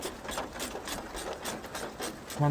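A 10 mm socket ratchet loosening the battery clamp on a Honda Civic Mk9, giving a steady run of quick, close clicks with no talk over it.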